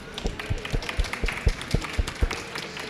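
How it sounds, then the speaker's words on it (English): A conference audience applauds the panelists at the close of a UNDP climate session at COP27, steady rhythmic clapping of moderate size lasting a few seconds with a faint room murmur. "An applause for our panelists."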